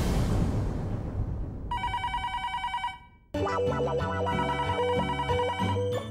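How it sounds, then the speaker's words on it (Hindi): A telephone rings with a steady electronic trill that is followed by a melodic ringtone tune, loud and clear within a sitcom scene, with no talking. "फिर से फोन?"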